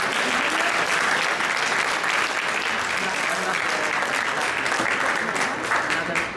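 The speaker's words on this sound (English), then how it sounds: "I'd like to give one more massive round of applause for an absolutely unbelievable performance from all 889 competitors." Sustained, dense applause from a large audience at the US Squash 2016 awards ceremony, honouring competitors, with some cheering and voices mixed in, loud and steady throughout.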